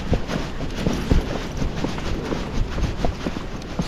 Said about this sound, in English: I don't know if you can hear her footfall, but she's still at a flat walk